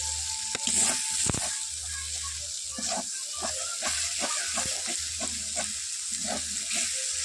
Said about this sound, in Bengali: মশলা থেকে তেল ছেড়ে এসছে, আর একটু ভেজে নিই।